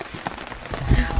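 Heavy rain patters steadily on a tarp nearby, a dense, close drumming with a few heavier thuds toward the end.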